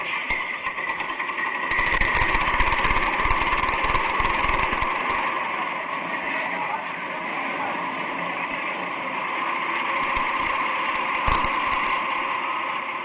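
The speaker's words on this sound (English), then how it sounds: "the official party go first to the powerhouse to see the diesel alternators starting up" Diesel alternators starting up in a powerhouse at a plant in Afghanistan, a loud steady mechanical drone with a higher whine and bursts of crackling noise, continuous and close.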